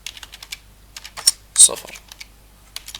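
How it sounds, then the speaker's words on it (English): Quick bursts of keystrokes on a computer keyboard as a name is typed into a website search box, close and crisp with short pauses between clusters, and a single spoken word partway through. "researchers if I want by typing their names in the search engine"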